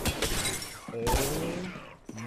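A shield cracking in Apex Legends, a sharp glassy shatter burst that cuts through overlapping gunfire and game effects while players talk over it.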